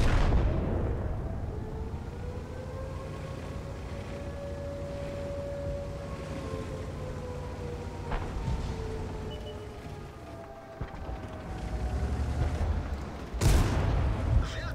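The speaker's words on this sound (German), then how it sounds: "Und jetzt hier den UI schön ins Heck schießen." A tank cannon fires into an enemy vehicle's rear in World of Tanks, a deep boom over a steady rumbling engine drone, with a second sharp blast near the end.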